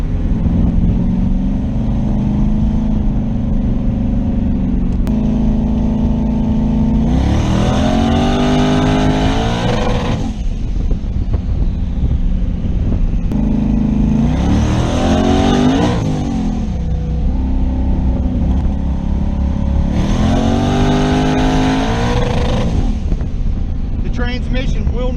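A turbocharged car running Holley EFI with a 4-port MAC boost valve revs hard in three loud pulls, engine pitch sweeping upward through each gear before dropping back, with a steady idle rumble between bursts.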